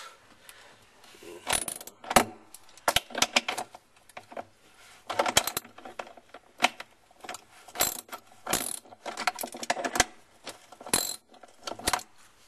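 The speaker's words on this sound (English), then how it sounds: "I'm removing the 7/16 bolt." A ratchet wrench backs out a 7/16 bolt on a Whirlpool Cabrio / Kenmore Oasis washer during a bearing repair. Quick bursts of close, crisp clicking repeat in irregular runs, with no talking.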